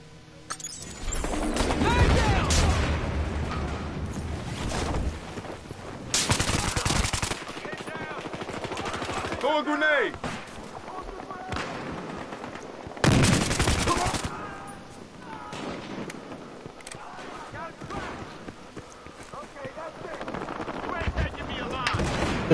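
Battlefield Hardline gameplay with dense, loud automatic gunfire from an L82A2 and other weapons, sustained bursts and blasts almost nonstop, sometimes with a player's voice talking over the shooting.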